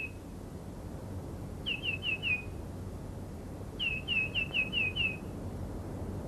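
Two short bursts of high, clear bird calls, a quick descending series of four or five notes each, over a quiet outdoor background.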